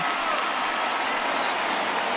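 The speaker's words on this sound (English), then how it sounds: "So this home crowd likely to give him a standing O as he departs with the shutout in check" A home stadium crowd in the baseball video game MLB The Show 19 claps and cheers continuously, a dense even wash of applause lasting a couple of seconds.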